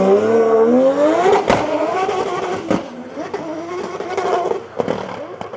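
A drift car at a French drift championship launches hard down the straight, its engine revving loud and rising in pitch with tire squeal, followed by further bursts of acceleration nearby.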